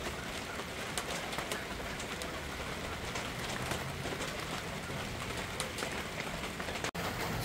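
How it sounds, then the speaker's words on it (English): Heavy rain pours steadily on a rainy day near a chicken yard, a dense continuous hiss with sharper drops pattering on surfaces, loud and close throughout. "It's raining like crazy, man."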